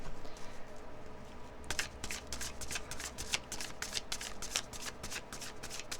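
Playing cards shuffled by hand during a card reading: a soft rustle, then a run of rapid crisp card flicks close to the listener, with no talking over it.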